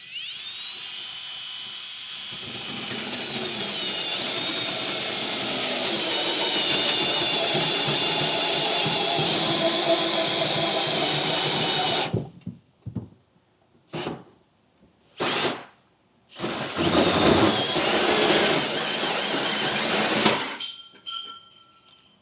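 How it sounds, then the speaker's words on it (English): A 4-inch hole saw bores through the bed of a 2025 Ford truck, a loud, steady high-pitched drilling whine for about twelve seconds, then several short stop-start bursts of cutting. "now I got my 4-inch hole saw on, and I'm going to go ahead and get this drilled out"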